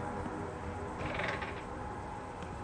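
A cat meows faintly and briefly in the horror farming video game Dreadfields, partly buried under a steady wash of game ambience.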